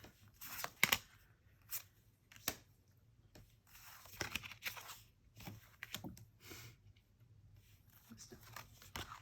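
Tarot cards are shuffled and gathered into a pile in irregular bursts of crisp riffling and soft slapping close to the mic, with quieter gaps between handlings.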